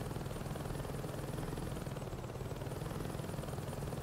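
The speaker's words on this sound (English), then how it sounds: "We got another helicopter." A steady helicopter drone with rotor chop holds level throughout, a continuous mechanical thrum with no talking over it, in the video game Saints Row 2.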